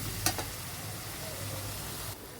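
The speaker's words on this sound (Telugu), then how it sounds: "ఇది బాగా కలిపేస్తున్నాను. ఇది వేగుతూ ఉంటుందండి." Masala for chicken curry fries in a pan, a soft, steady sizzle with a couple of brief stirring clicks near the start.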